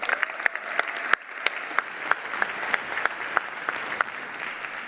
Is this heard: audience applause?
yes